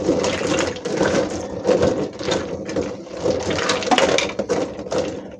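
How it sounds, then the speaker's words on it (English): Trays of ice cubes dumped over boiled eggs in a bowl and stirred, a steady run of close, loud clattering and crunching with sharp knocks of ice and shells, no talk. "dump that 3 trays of ice on them so they get cold quick"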